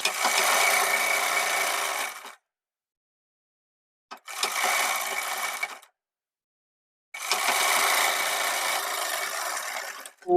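A sewing machine stitches underwear fabric in three bursts of rapid whirring, each running about two seconds and separated by silent pauses, close and steady.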